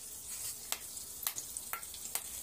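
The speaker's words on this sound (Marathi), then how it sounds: "मी पहिला कढीपत्ता टाकून घेते" Curry leaves dropped into hot oil for a drumstick curry tempering crackle and spit, with sharp pops every half second or so over a constant soft sizzle, close and fairly quiet.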